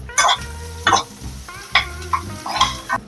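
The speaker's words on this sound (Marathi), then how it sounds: "आपण छानसा कांदा लालसर होईपर्यंत परतून घेऊया" Chopped onion frying in a spoonful of oil in a pan for a Konkan-style cashew dish, heard as a soft sizzle under several distinct stirring scrapes of a spoon against the pan, close by.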